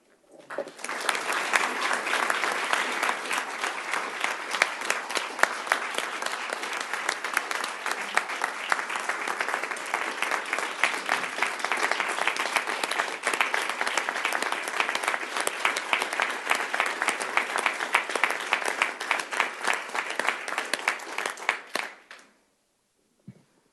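Sustained applause from a legislative press-event audience on their feet for a standing ovation, dense and steady clapping for about twenty seconds before stopping abruptly.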